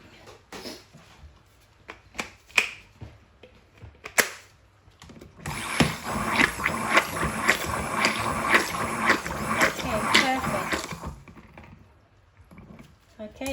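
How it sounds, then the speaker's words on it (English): Whisk stirring lavender cold process soap batter, a few scattered taps and clinks at first, then several seconds of steady rapid whirring and scraping that stops abruptly, with talk in between. "I'm gonna go in with the whisk."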